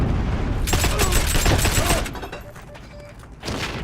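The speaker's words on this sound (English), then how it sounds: "a lot of explosions" Explosions and gunfire from the online shooter Heroes & Generals rumble in a dense, loud barrage that thins out midway before picking up again.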